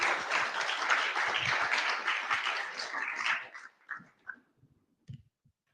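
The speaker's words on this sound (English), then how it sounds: "Another big round of applause for Rachel." An audience applauds a speaker at a July product meetup, dense steady clapping for about three seconds before it thins into a few scattered claps and fades to near silence.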